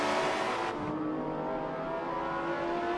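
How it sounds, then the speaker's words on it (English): Race car engine in the Forza 7 video game lapping the Hockenheimring, a steady loud drone that holds its pitch with a slight shift partway through, with no voices over it. "As Pinkie Pie now exits out of turn 2, entering turn 3 and 4, entering back into the back stretch"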